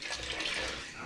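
Water poured from a container into a pot of pozole verde cooking chicken in stock, a steady close splashing stream lasting about a second with no talking.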